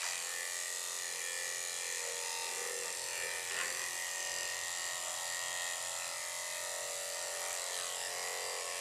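Electric dog clippers with a number 10 blade hum steadily and closely while shaving a dog's armpit fur, a continuous high buzz with a slight change in pitch partway through and no talking.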